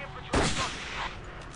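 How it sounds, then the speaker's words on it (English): A single loud flak gun shot in Battlefield 1942, a sharp boom followed by a short rumbling tail, close and heavy. "You can try to hit people with the flak gun as they parachute out."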